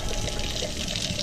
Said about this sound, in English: There's gonna be a lot of fluid coming out. Gonna fill that pan, dude.